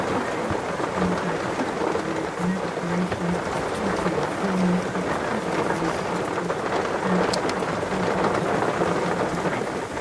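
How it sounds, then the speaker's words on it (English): Heavy rain falling outdoors, a loud continuous hiss and patter that holds steady throughout with no pauses. "Blimey, it is rainy."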